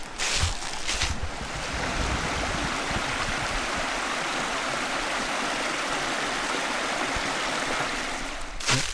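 A creek flows in a steady, full rush of water outdoors near a hillside campsite, continuous and fairly loud with a few brief knocks at the start and end.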